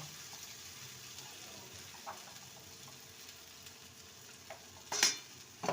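Potato dum with sugar and salt being stirred in a pan, a faint steady sizzle with soft occasional scrapes and a sharper utensil clink toward the end.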